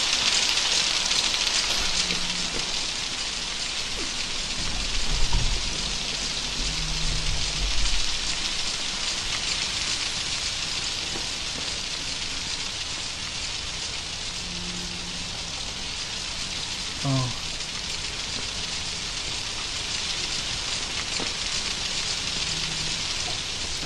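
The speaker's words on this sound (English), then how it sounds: "All I hear is rain." Steady rain in the horror video game Outlast, an even wash of falling drops that carries throughout, with a few faint low thumps and footstep-like knocks underneath.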